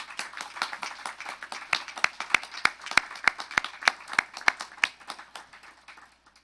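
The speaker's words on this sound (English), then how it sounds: "give a big round of applause for all of the first responders that are here today" An audience at a Patriot Day remembrance event applauds first responders, a crisp, fairly close burst of clapping that builds, holds steady, then thins out and fades near the end, with no talking over it.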